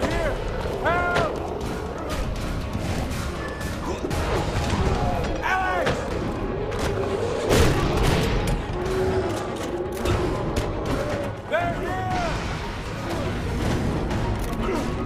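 In the video game Prototype, rocket launcher blasts and gunfire crash and boom continuously amid mechanical clatter, loud and dense throughout, with voices talking over the chaos.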